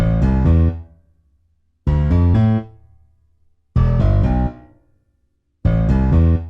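Layered piano and bass guitar programmed in FL Studio for a remake sound four sustained chords together, each struck loud, ringing about a second, then decaying into a brief low tail before the next, with no voices.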